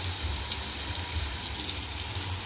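Water poured from a container over a friend for a bath at an outdoor birthday celebration, a steady close splashing gush with a low rumble underneath, no voices.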